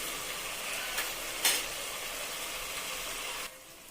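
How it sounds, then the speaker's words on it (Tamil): Onions and tomatoes sautéing in hot oil for a dried fish curry, a steady close sizzle and hiss with a couple of brief stirring scrapes, softening near the end. "இப்போ இந்த வெங்காயம் தக்காளியெல்லாம் நல்லா வதங்கிடுச்சு."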